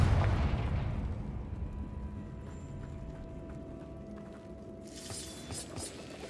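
A Confringo blasting spell explosion in The Sims 4 hits with a loud booming burst at the start, then fades into a long decaying rumble, followed later by a bright crackling shimmer.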